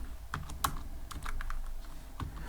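Python code is typed on a computer keyboard in a quick, irregular run of close, crisp key clicks with short pauses between bursts.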